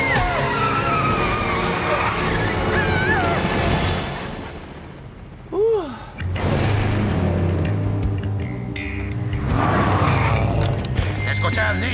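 A van skids under hard braking in a Ninjago cartoon, a loud screeching slide with tire squeal over engine rumble and crashing effects, while characters shout over it.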